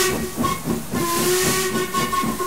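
A loud steam whistle sounds over continuous hissing steam, its tone sustained and repeated across the whole stretch.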